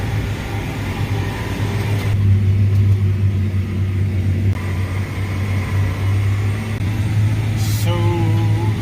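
A farm tractor engine runs at a steady, loud, low rumble from close by, with a brief higher whine near the end and no speech.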